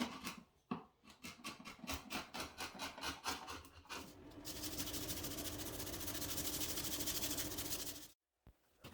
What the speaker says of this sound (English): using a chisel and some 50 grit sandpaper to clean up the caulking on the wall